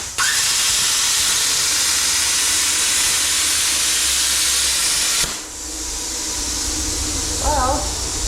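A Bestarc BTC800DP 9th Gen plasma cutter slicing through metal: loud, steady broadband hiss running several seconds, a brief dip and restart, then continuing roar with a short whistling tone near the end.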